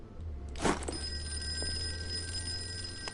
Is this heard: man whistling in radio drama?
no